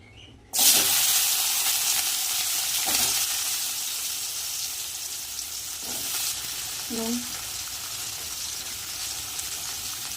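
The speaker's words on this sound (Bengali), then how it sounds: "ফুলকপি আলু ভাজাও রেডি" Cauliflower and potatoes fry in oil in a kadai. A loud, even sizzle kicks in abruptly and holds throughout, broken by a few stirring scrapes and a small clink.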